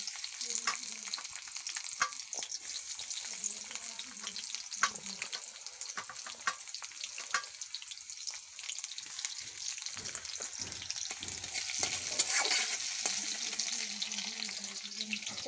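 Chopped onion frying in a pan, with a steady broadband sizzle running throughout and intermittent clicks of stirring or spoon contact, close and fairly loud, no talking.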